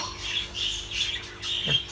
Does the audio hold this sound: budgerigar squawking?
yes